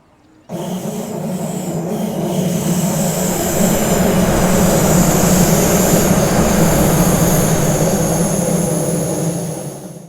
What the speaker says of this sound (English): another issue I have with that unit is the awful flange squeal